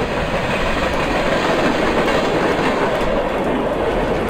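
Goods train hauled by a WAG12 locomotive in the MSTS train simulator, rolling slowly into a station with a continuous rumble and faint clickety-clack of wheels on rail joints.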